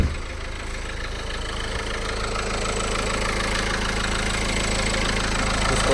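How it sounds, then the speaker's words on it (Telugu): A 2013 Renault Scala RXL sedan idles with the bonnet open, a steady low engine hum with a faint rhythmic ticking, close and even throughout with no talk. "ఇంజిన్ ఆన్లో ఉంది"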